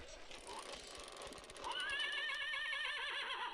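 A man imitates a horse neigh with a voice on an old, hissy tape recording, a loud, wavering whinny that rises out of murky noise and carries on for about two seconds.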